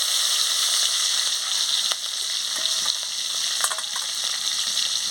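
Green chilies frying in oil in a pan after the prawns are lifted out: a loud, dense, steady hissing sizzle with brief stirring scrapes, close up and alone without voices.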